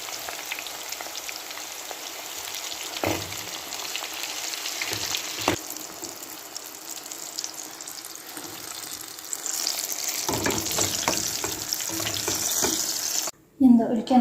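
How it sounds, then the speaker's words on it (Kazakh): Eggplant pieces sizzle steadily in hot oil for a salad, a broad continuous frying hiss with occasional clinks and crackles, growing denser and louder toward the end before a brief drop. "Қалған баклажандарымызды дәл осылай қайталап қуырамыз."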